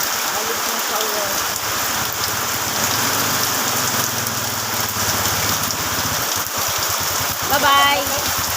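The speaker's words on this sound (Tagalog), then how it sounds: "Palakas ng palakas ang ulan." Heavy rain pours down steadily in a dense, constant hiss that fills the whole stretch, loud and close, with people talking faintly beneath it.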